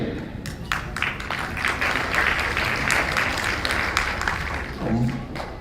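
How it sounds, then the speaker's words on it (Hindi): A gathering at a Hindu religious discourse claps softly, a steady patter of many hands with some voices mixed in beneath it. "ताली धीरे बजी है"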